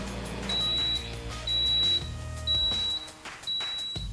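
A microwave oven baking a chocolate cake gives four evenly spaced high electronic beeps, one about every second, over a steady low hum.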